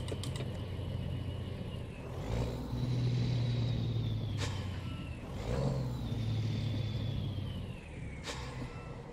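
A big rig in American Truck Simulator rumbles under load as the engine downshifts, revs rising and falling in two swells with sharp clicks of gear changes, steady and close throughout.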